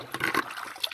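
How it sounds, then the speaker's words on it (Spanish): Water pours from a container onto vegetable garden plants such as cucumber, squash and eggplant, a short close splash and trickle lasting about a second. "Tenemos agua para regar la hortaliza."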